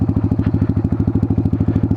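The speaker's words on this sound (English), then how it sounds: "It's a Harley clunky tranny." A Harley-Davidson motorcycle with a clunky transmission: loud, close, rapid and very even thumping beat that holds steady throughout, with no talking.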